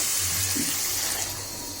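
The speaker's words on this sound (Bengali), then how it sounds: "আমি এই ডালের মধ্যে ঝোলে পানি দিয়ে দিব" Water pours from a mug into a pot of simmering chana dal, a brief, steady gushing splash close by with no voices.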